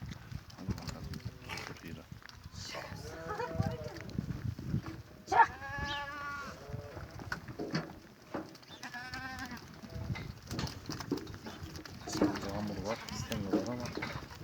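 Several goats bleat in wavering, nasal calls at intervals amid a noisy outdoor background with people talking, after rain.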